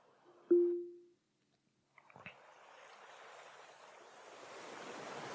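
Ocean wave sounds from a Sleep Jar ambient track, played through an Alexa smart speaker, fade in as a soft, steady surf wash after a brief electronic chime and a couple of clicks.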